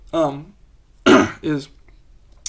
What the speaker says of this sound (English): Sorry, I have a little bit of a cough.